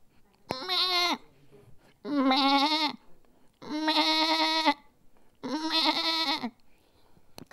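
A voice imitates a baby goat's bleat: four loud, quavering bleats with short pauses between them, close up.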